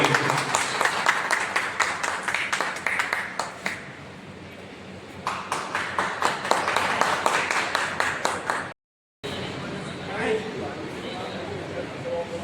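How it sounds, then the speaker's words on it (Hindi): An audience of journalists claps at a district conference, with bursts of sharp, fairly close hand claps that stop briefly partway through and then give way to murmuring and a little talk. "इसके लिए जोरदार ताली बजना चाहिए।"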